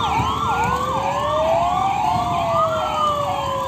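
A fire service motorcycle response unit sounds its siren, a loud, continuous wailing tone that sweeps steadily up and down for the whole stretch, with no voices over it.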